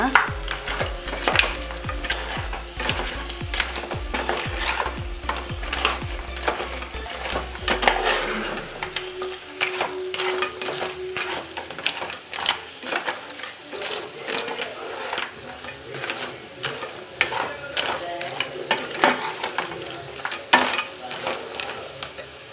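Coastal-style crab sukka masala with black pepper powder stirred in a pan, a steady run of rhythmic scraping and clinking from the spoon against the pan, close and fairly loud, easing slightly after the first few seconds.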